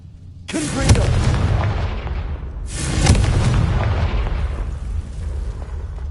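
Two heavy booming blasts from a fire explosion spell in a Harry Potter video game, each a sudden loud burst followed by a long rumbling decay.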